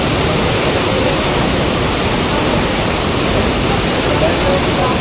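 Rushing river water from Alpine runoff churns continuously as a dense, loud, broadband roar, steady from start to finish with no distinct voices audible over it.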